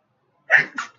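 A single close sneeze, a sharp burst with a brief second catch, after a moment of silence.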